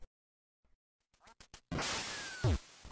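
Quacking from the Duck Hunt video game sounds out as a loud, abrupt burst of noisy game audio after a few scattered clicks and blips, with no talking.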